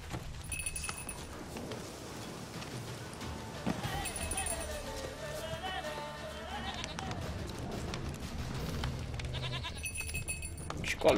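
A goat bleats in a wavering, drawn-out cry amid background sounds in The Witcher 3, with a person talking quietly over parts of it.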